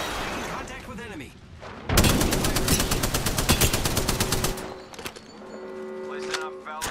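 Automatic gunfire in the battle royale game Apex Legends, a loud rapid burst of evenly spaced shots lasting several seconds, followed by scattered lighter shots and game sounds.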